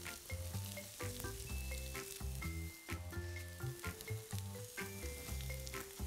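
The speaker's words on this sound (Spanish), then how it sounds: "Tenemos aquí unas tortillas de maíz que vamos a calentar ligeramente." Corn tortillas warm in a pan with a soft continuous sizzle under steady background music, fairly quiet and close, no voices.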